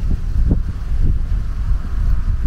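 Strong outdoor wind buffets the microphone, a loud continuous low rumble with gusty surges throughout.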